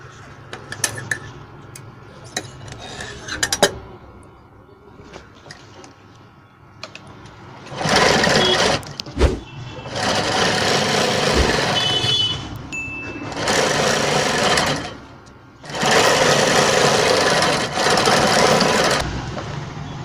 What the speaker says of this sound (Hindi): यहाँ पे एक सीधा सिलाई पहले ले लेंगे